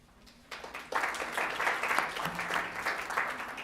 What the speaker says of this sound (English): I applauded myself